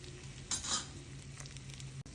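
Mint leaves fry with green chilies and cumin in a pan for ridge gourd chutney, giving a soft, steady sizzle with a brief stirring scrape.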